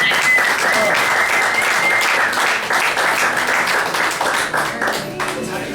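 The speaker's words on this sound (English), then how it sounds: "If you guys would give him a round of applause" An audience at a private party with a comedy performer breaks into loud, sustained applause, dense clapping close by that holds steady and fades slightly toward the end.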